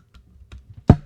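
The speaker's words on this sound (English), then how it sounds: "Yeah, it was my keyboard." A few separate computer keyboard keystrokes tap out in sparse, uneven rhythm, ending in one louder, sharper click, close by and without talk, at a desk during live futures trading.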